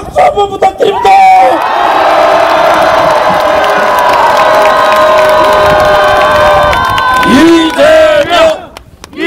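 A large outdoor political rally crowd in Gunsan's public market cheers and roars in sustained loud whoops and shouts for several seconds, with scattered applause and shouting voices rising and falling near the end.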